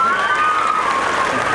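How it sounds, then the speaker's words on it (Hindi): Audience at a school annual function applauding, a dense steady wash of clapping and crowd noise that fills the short moment at full volume. "एक बार जोरदार तालियां अपने लिए बजा दें।"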